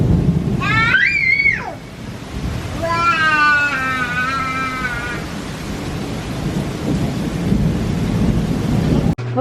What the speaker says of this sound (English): We're here watching the rain fall.